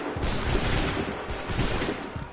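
Musket volley fire in Assassin's Creed 3, several sharp overlapping bursts of gunfire in quick succession, loud and close, followed by rolling crackle and rumble.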